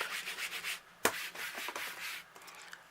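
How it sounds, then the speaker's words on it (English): A rubber stamp scrubbed clean on a stamp scrub pad, with soft, close back-and-forth rubbing and brushing strokes, a brief sharp tap partway through, and no talking. "So I'm just going to clean it off on my stamp and scrub"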